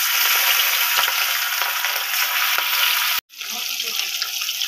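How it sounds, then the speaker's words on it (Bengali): Hilsa fish fry in hot oil for shorshe ilish, a loud, dense, continuous sizzle that cuts out abruptly for a moment before resuming just as strongly. "এরপর যে ইলিশ মাছগুলো আমি এক এক করে ভেজে নেব।"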